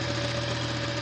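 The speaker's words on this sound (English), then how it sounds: "there's a motor that goes around 360 degrees, and it drags that black plastic with the cutouts, which drags the eggs" The automatic egg-turner motor inside a digital quail egg incubator runs with a steady, low mechanical hum and faint vibration, close and constant without pause.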